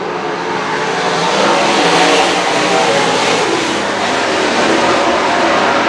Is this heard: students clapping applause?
no